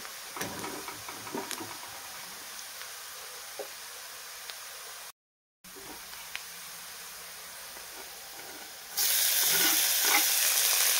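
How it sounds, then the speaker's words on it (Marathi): Tomatoes sautéing in a pan for egg bhurji, a steady soft sizzle with a few faint stirring clicks, growing noticeably louder and hissier toward the end. "टोमॅटो टाकला आपण परतून घेऊया"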